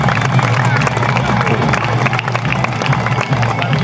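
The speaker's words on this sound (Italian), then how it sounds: "Un grande applauso." A crowd at an Italian equestrian event with horses and riders applauds and cheers in a steady, dense roar of clapping and chatter that fills the whole stretch without a break.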